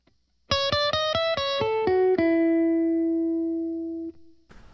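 Electric guitar playing a plain, unremarkable lick of several picked notes stepping downward, ending on a long sustained note that rings out and fades, alone and close.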